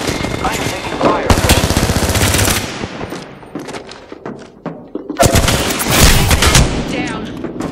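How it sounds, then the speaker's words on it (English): Rapid automatic gunfire from the video game Apex Legends on Nintendo Switch, two loud sustained bursts separated by quieter shooting and game effects, close and dominant. "I am taking fire."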